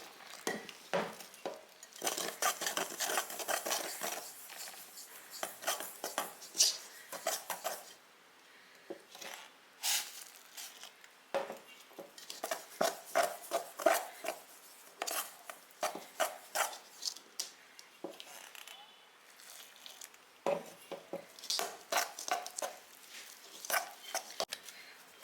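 Rice flour dough being stirred and mixed with hot water in a vessel, a steady run of scraping, stirring knocks and rubbing strokes close by with short pauses, no talk.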